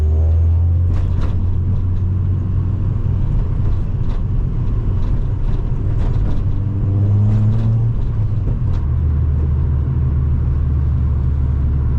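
A 2008 Honda Civic Coupe heard from inside the cabin as it merges onto a highway, its engine droning low and rising in pitch as the revs climb, with a steady road rumble underneath.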